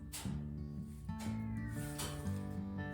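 A cat meows repeatedly, several drawn-out, wavering cries in close succession, fairly near and alone with no talk.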